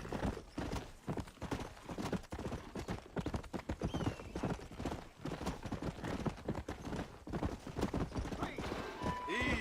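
Horse hooves clip-clop steadily on the ground in the Western video game Red Dead Redemption, a close, rapid rhythmic trot running throughout, with people talking faintly underneath.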